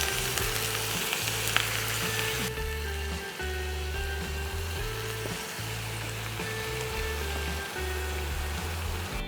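Food fries in a kadai for a Bengali shukto, a soft, steady sizzle with occasional stirring scrapes, fairly quiet, sitting over a low droning hum.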